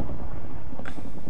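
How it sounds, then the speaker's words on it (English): Rolling thunder from a Minecraft thunderstorm, a low continuous rumble filling the background with a brief brighter crackle near the end, with no voices. "Dude, fuck off with the thunder."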